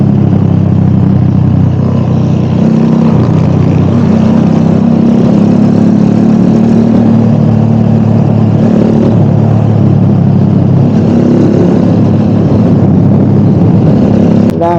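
A Rusi Classic 250 motorcycle engine runs steadily and loudly up close, with a low rumble that swells and eases slightly as it idles and revs.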